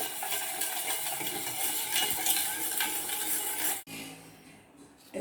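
Cooked rice is stirred into dissolved rock sugar in a pot for pongal, giving close, steady scraping and wet stirring for several seconds before it stops abruptly, followed by faint quiet.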